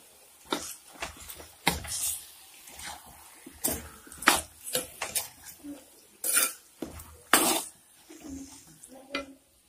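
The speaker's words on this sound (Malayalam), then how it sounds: "ഇനി നല്ല ഫ്രൈ ചെയ്യണം" Carrot, capsicum and potato pieces stirred in a pan with tomato and chilli sauce for an Arabic chicken curry, with frequent sharp spoon-on-metal clanks and scrapes in an irregular rhythm over a faint sizzle.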